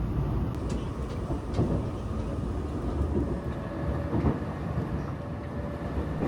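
Inside a sightseeing train carriage on the line from Osaka toward Wakayama, the car rumbles and rattles along the tracks with a steady low roar and occasional knocks and jolts, and no one speaks.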